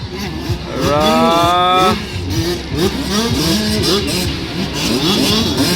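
Small 50cc and 65cc motorcycles race in Valencia City, Bukidnon. A high, rising engine whine climbs sharply near the start over a busy, rumbling background of other engines and crowd noise.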